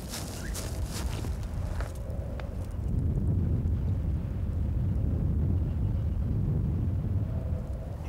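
Constant low wind rushing past the microphone during a spring turkey hunt, steady and moderately loud throughout, with a couple of soft knocks near the start.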